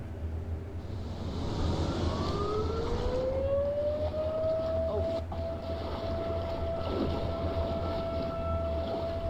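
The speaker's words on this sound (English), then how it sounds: "the fishing trip was suddenly interrupted by a loud, blaring noise. A siren." A loud, blaring siren rings out over open water during a fishing trip, a steady rising tone that holds for several seconds over constant engine and wind rumble.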